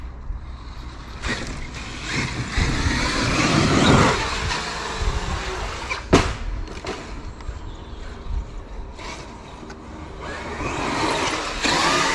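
A toy car's motor whines and revs as it races for a full-speed jump, rising to a peak, cutting back with a sharp knock midway, then building again, with no voices.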